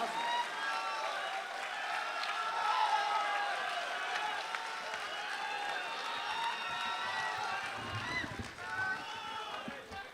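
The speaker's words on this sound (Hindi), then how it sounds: "ज़ोरदार तालियां बजा दीजिए मोहतरम शकील आज़मी साहब।" Sustained applause from a mushaira audience in Dubai greeting poet Shakeel Azmi, a steady dense wash of clapping with crowd murmur running throughout.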